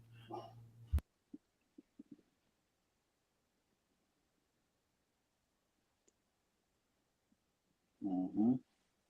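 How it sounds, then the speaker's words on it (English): A dog gives one bark or yelp near the start, then falls mostly quiet apart from a few faint clicks, and a pair of louder barks close the clip. "damn dog's going off crazy"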